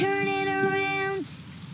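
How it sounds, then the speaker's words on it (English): Steady patter of rain falling outdoors in an animated cartoon, a soft hiss that carries on after a sustained tonal sound cuts off partway through. "Oh, it's raining outside."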